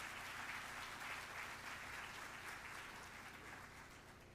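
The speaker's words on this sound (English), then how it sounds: "Let's give everyone who's currently involved with our reaccreditation process a round of applause." An audience at an awards celebration claps in a sustained round of applause, a broad steady wash that gradually fades over four seconds.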